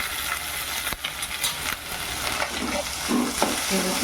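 Onion and tomato frying with ginger-garlic paste in a pan for a Marathi-style broccoli bhaji, a continuous bright sizzle broken by scraping stirs and a few sharp clicks of a utensil against the pan.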